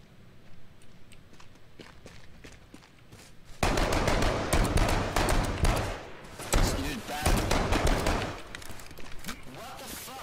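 Rapid bursts of gunfire in the video game H1Z1, quiet scattered shots first, then loud sustained automatic fire in repeated volleys close by.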